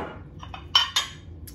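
China dishes from a set of three antique pieces, one marked Ultima China, clink as they are handled, with two sharp, bright clinks near the middle and softer taps around them.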